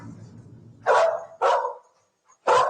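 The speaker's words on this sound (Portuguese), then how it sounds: "o cão que marca o odor a cadáver humano, marcou a este canto o odor a cadáver." A cadaver-detection dog barks three times, loud and close, with two barks in quick succession and a third after a short pause, over faint background rumble.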